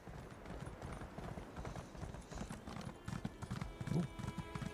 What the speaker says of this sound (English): It's absolutely safe to have a horse riding here.